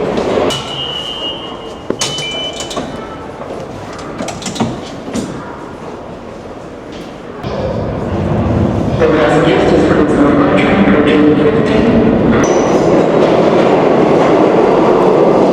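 A New York City subway train rumbles loudly into a station, clattering and hissing, with scattered clicks and squeals, and a steady roar building through the second half.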